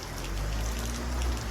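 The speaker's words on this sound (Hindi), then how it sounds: "लेकिन बारिश रुकने का नाम ही नहीं ले रही है यार।" Heavy rain pours steadily on a mountain road on the route to Badrinath, a dense, continuous wash of drops with no talk.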